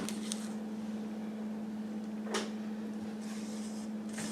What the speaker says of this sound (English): I'll finish this off with my spatula and just scrape this bowl really good.